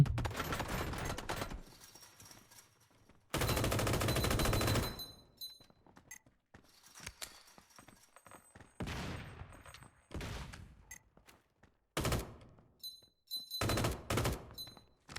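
Bursts of rapid automatic gunfire in PUBG Blindspot, a top-down tactical shooter game, loud volleys broken by short pauses and scattered single shots.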